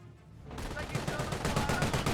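A Company of Heroes vehicle, a carrier, fires a rapid stream of automatic gunshots in even repetition, fairly faint and continuous, beneath a commentator's voice.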